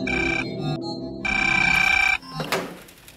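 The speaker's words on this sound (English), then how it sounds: "Answer the phone?" An old telephone bell rings in two bursts, a short ring and then a longer one, each ending sharply, followed by a thunk like a handset being picked up.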